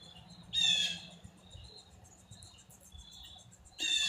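Sharp, high chirps come in two short bursts at the start and end, with faint scattered twittering between against a quiet background.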